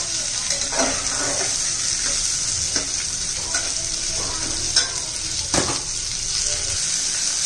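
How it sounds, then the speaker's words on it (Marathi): Lima beans (pavta) sautéing with chopped onion in a pan, a steady sizzle with occasional scraping stir strokes, fairly close and continuous, no talking over it. "2-1 मिनिट आपण पावटा परतून घेतलेला आहे कांद्याबरोबर"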